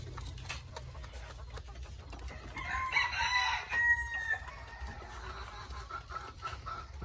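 Bantam chickens at a farm cluck steadily in the background while a rooster crows once clearly mid-way, with other birds and faint farm hum around them.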